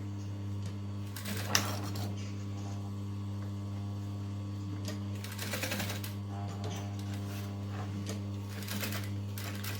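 A sewing machine stitches fabric for a dumpling pouch at a 3.75 mm stitch length in two short, rattling bursts. A steady electrical hum drones underneath throughout.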